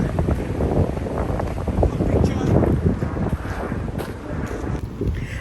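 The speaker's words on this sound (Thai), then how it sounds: "ลม แรงนิดนึงนะคะวันนี้" Strong gusty wind buffets the microphone outdoors in Bergen, Norway, with a continuous loud roar and rumble that holds steady throughout and fades only slightly near the end.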